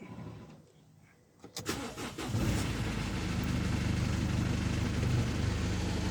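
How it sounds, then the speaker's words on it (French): A 2010 Mercedes C200 CDI diesel engine cranks and catches around the one-and-a-half second mark, then settles into a steady, loud idle with a loosely fixed exhaust that rumbles on to the end. "ce bruit là qu'on entend, c'est l'échappement qui est mal fixé"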